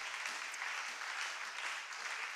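A church congregation applauds and cheers in worship: a steady wash of clapping with scattered voices, sustained and fairly close, filling the whole moment.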